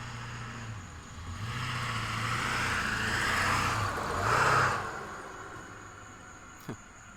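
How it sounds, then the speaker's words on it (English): A truck engine runs roughly nearby, a low uneven drone with surging swells that rises and peaks before easing off, with a brief knock near the end. "Somebody's truck sounds like it's having some issues there."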